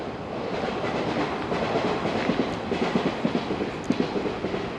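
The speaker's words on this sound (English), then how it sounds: "Maybe even the sound of the trains going by wouldn't bother you." A train rolls past nearby with rhythmic clickety-clack from its wheels over rail joints, steady rumbling throughout and the clacks growing more distinct toward the end.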